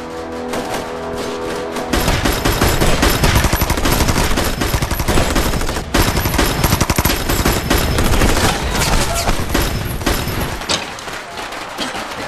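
Firecrackers set off to imitate gunfire during a wartime anti-Japanese drama scene, a loud dense rattling string of rapid bangs that bursts in after a quieter opening, runs continuously for about ten seconds, then thins out near the end.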